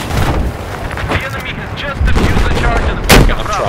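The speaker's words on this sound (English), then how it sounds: "bullets are just kind of flying at me" Rapid gunfire in Battlefield 4 crackles around the player in close, dense bursts, with a sharp louder report near the end, while voices talk over the combat.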